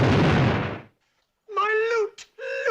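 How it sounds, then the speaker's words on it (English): A film explosion blowing up a safe: a loud, broad burst that decays within a second, followed by silence and then voices talking. "My beautiful safe blown up, shattered, smashed to pieces."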